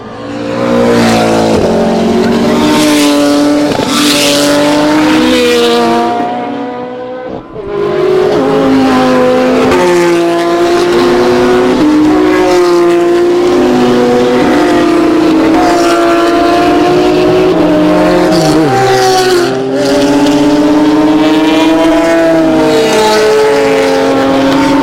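Racing cars scream past one after another at full throttle, engines loud and close, with a short gap of quiet before the next wave of cars arrives.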